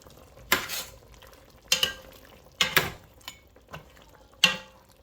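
A spoon clatters against a pot in four or five separate short strokes while a pork sinigang mixture is stirred, close and fairly quiet, with near silence between the strokes.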